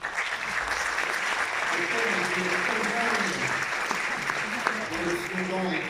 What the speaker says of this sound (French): vous pouvez applaudir tout le bureau